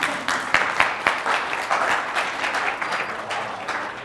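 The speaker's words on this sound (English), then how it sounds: "if I get it right, don't hold back your applause" A lecture hall audience at a math talk breaks into sustained applause, dense overlapping claps with a few sharper individual hits, steady for several seconds.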